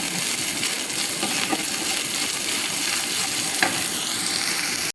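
Onion and garlic sizzle steadily in hot oil in a frying pan, a dense continuous crackle with a few sharp ticks from stirring, close and loud with no talking.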